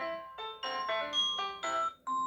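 A Samsung Galaxy ringtone, a bright synthetic melody of bell-like tones in several short phrases with brief gaps, clear and close with no voices.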